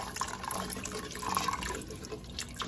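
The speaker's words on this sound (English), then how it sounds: "we're going to now pour in our chicken stock" Chicken stock pours steadily into a soup pot for tortellini soup, a continuous close liquid splashing and trickling with no voices.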